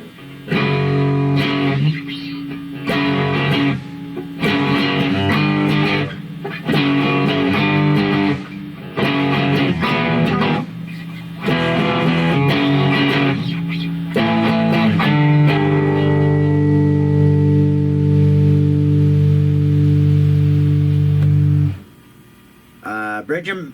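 Heavily distorted Glarry electric guitar strums chunky power chords in bursts with short gaps, then holds a long sustained ringing chord before cutting off.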